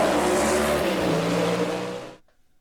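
A gasser drag race car at Shadyside Dragway roars hard down the strip, a loud, raw engine note fading as it pulls away into the distance, then abruptly cut off.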